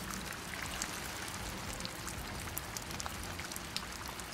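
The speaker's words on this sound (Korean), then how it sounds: "비 오니까 비 소리 들으면서 자는 거야?" Steady rain falling outdoors, a dense even hiss of patter with scattered louder drops hitting surfaces, continuous and moderately quiet with no voices.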